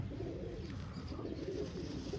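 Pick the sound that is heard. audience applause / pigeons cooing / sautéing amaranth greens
pigeons cooing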